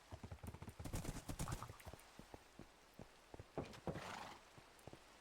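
A black horse in the Minecraft video game gives off quick clip-clop hoof sounds and a whinny, fairly close, with soft rain-like patter in the background.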